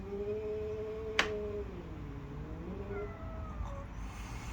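A domestic cat caterwauling, drawn-out wavering meows rising and falling over several seconds indoors, with a sharp click partway through and a quieter second yowl near the end, moderately close.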